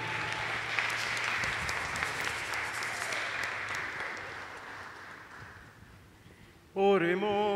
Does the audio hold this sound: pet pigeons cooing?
no